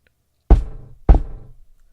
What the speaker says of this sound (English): She said, and knocked twice on the floor.